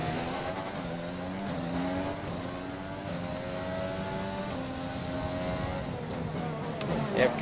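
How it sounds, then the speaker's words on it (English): In an F1 video game, a race car engine whines and revs steadily as the car spins out, ending in a brief impact against the wall. "car just spun around over the curve and stuff, and so just lost just a tad bit of what we needed grip-wise, and that just sent us into the wall"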